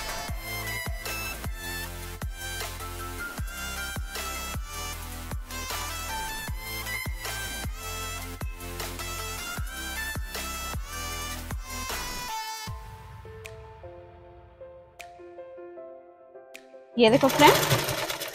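A sewing machine stitches along the edge of a kids' lehenga top in a fast, steady mechanical rhythm for about twelve seconds, then stops, with a brief spoken phrase and a closing rustle.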